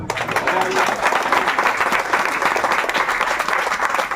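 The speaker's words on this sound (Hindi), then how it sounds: "वो देखो ना, 2 बच्चियां तालियां बजा रही है" Two girls clapping at an inauguration event, steady rapid applause that continues throughout with crowd noise and voices underneath.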